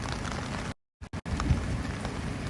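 Steady rain with wind pours down during Tokyo's rainy season, a dense close hiss that cuts out abruptly for a moment with a couple of brief bursts before resuming just as heavily.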